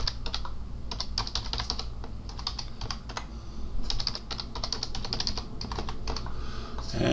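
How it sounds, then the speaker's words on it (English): A password is typed on a computer keyboard in quick, close, irregular bursts of light clicking keystrokes, with short pauses between groups and no speech. "type in a password"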